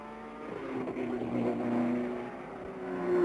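Race cars at the 1968 24 Hours of Le Mans, engines droning steadily with a rising and falling whine as they press on, moderately loud and continuous throughout.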